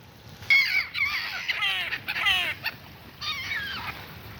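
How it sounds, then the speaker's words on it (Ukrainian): A crow caws repeatedly in harsh, rasping bursts, fairly close and loud, with short pauses between calls over faint background noise. "Яка жадна ворона, дивіться."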